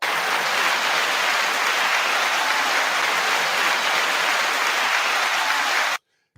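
Dense, uniform applause sound effect, a loud wall of many clapping hands that holds steady for about six seconds and then cuts off abruptly into silence.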